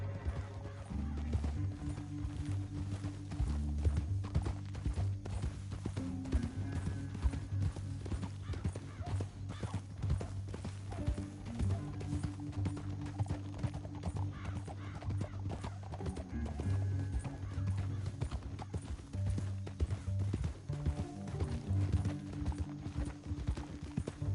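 Several horses gallop in a video game, a continuous drumming rhythm of loudly pounding hooves, with occasional whinnies and a steady low rumble behind them.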